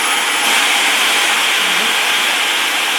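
Dyson Supersonic hair dryer running at its second power setting, a steady, loud, close airy whoosh with a high whine, constant and unbroken throughout with no talking.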